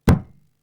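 A piano lid shut abruptly during a concert performance gives a single sharp wooden knock, loud and close, with a brief resonant decay and no other sound around it.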